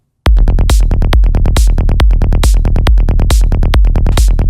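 Electronic music track built from a punchy kick, deep bass, snare and a synth lead, playing loud and steady in a simple driving loop after a brief silent start.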